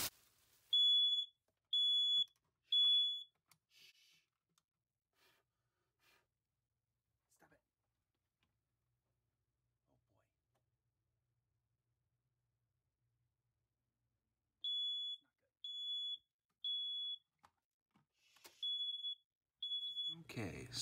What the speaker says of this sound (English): The fire alarm did go off.